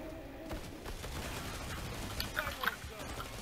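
Tommy gun firing in the Killing Floor 2 video game, a continuous dense rattle of automatic gunfire with game effects mixed in, steady and moderately loud throughout.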